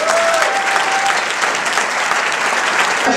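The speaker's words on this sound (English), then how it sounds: "let's have a round of applause for the judges" An audience at a scientific society's annual meeting applauds the judges, a dense, steady round of clapping from a crowd filling the room throughout.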